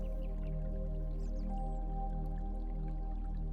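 Water drips and trickles steadily over soft, sustained music, with a brief faint bird chirp partway through.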